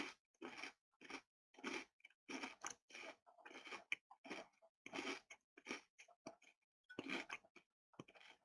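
Agemochi crisps crunch loudly up close in a rapid series of sharp, dry bites and chews, about a dozen distinct crunches with brief pauses between them and no talking.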